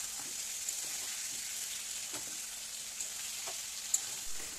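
Chicken pieces frying over a high gas flame give a steady, close sizzle with a few soft clicks and knocks from the pan, and no one speaks.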